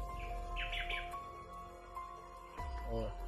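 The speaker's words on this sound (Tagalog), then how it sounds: "So may naririnig naman akong huni ng ibon." Several chirping bird calls sound at a distance in a forest over steady background hum, with a brief louder rising call near the end.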